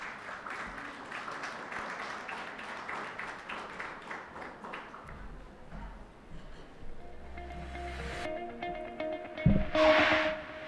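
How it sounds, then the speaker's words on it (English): Audience applause welcoming a speaker on stage at a literary event, a sustained patter of clapping for several seconds that thins out, followed by shuffling and microphone handling noises. "Please welcome him on stage with a huge round of applause."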